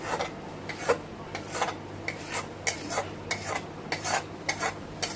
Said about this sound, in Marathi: वितळेला गुळ जो आहे आपल्याला त्या पिठामध्ये घालून घ्यायचा आहे